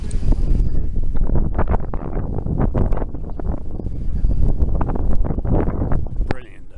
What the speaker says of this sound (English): Wind rustling through.